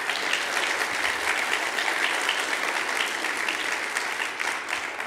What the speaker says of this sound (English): We'll give them a round of applause for showing up.